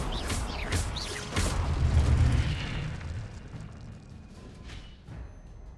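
A fiery burst from the Incendio spell in Hogwarts Legacy, a loud whooshing blast with crackling rumble that peaks around two seconds and then tails off into a fading roar.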